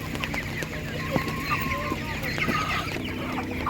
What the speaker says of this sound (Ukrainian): Це півні гарні.